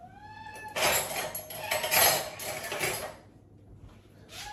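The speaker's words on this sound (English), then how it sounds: "Excuse my cat in the background." A cat meows nearby, a rising cry at the start, followed by a few seconds of clattering and rustling noise, then quiet.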